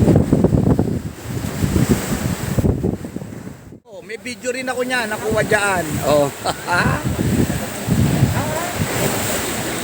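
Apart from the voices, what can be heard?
strong ocean waves at the beach during a storm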